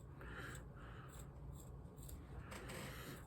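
Scissors cut through the material of a homemade band face mask, several soft, faint snips spaced a little apart and heard up close.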